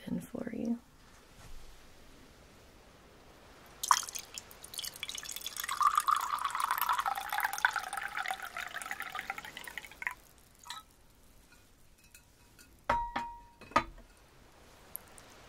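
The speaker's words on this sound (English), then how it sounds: "Let me pour that in for you." Liquid pours into a flashy glass in a calm ASMR setting, a steady trickling stream lasting several seconds near the mic, followed by soft drips and a few clinks, with quiet spoken voice around it.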